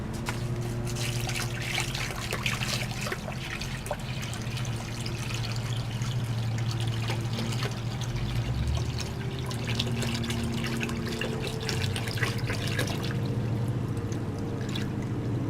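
Water poured from a 5-gallon container into an RV toilet: a steady, continuous splashing pour with a constant low hum beneath it, moderately close and sustained for the whole stretch.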